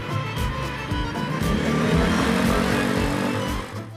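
A 2017 Peugeot Belville 125 scooter with a liquid-cooled 125 cc single-cylinder engine runs steadily close by, a continuous rumbling drone with slight rises in revs and no talk.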